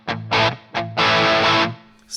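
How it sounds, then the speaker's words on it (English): An Enya Inspire smart guitar played through its distortion channel gives out a few loud, gritty bursts: two short stabs, then a longer sustained chord that cuts off abruptly. "Go to the distortion channel."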